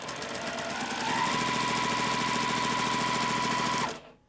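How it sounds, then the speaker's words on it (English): A sewing machine stitching 100% cotton at a 2.0 stitch length while piecing a Sister's Choice quilt block, running as one loud, steady, rapid whir that rises slightly after a second, then stops abruptly near the end. "So I'm going to just sew directly on the line"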